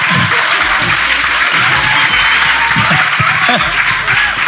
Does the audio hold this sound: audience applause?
yes